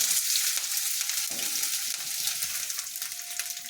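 Ginger pieces sizzle steadily in hot oil in a pan for Allam Pachadi, a continuous bright frying hiss with occasional stirring scrapes, close and alone.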